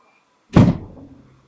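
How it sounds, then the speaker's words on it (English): A door swings shut with a single solid thump, close and fairly loud, the low thud fading over about a second in an otherwise quiet room. "Okay, close the door"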